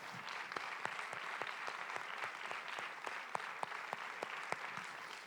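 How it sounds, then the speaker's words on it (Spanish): A church congregation claps together in steady, even applause, with sharp hand claps standing out against a quiet, distant wash of clapping. "Dele ese aplauso al Señor."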